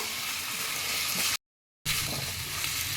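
A salted spice paste sautéing in a pan makes a dense, steady sizzle close by, cut off abruptly by a brief gap of silence before the frying noise resumes just as strongly.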